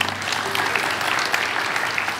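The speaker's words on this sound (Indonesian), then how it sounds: "Kalau dengar gini mesti tepuk tangan untuk Tuhan Yesus." A church congregation breaks into brief, lively applause, a dense patter of many hands clapping together for about two seconds.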